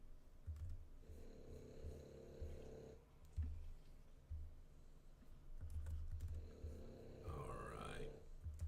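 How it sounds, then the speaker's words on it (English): A dog snores somewhere nearby in a room, slow rhythmic grunting breaths that come and go in bursts between faint keyboard tapping, fairly quiet overall. "fucking dog is snoring over there"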